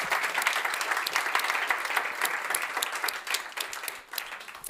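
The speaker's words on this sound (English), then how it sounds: "We give them a warm applause." Warm applause from the audience at a summit gathering fills the room, a steady wash of many hands clapping that holds for several seconds before easing off.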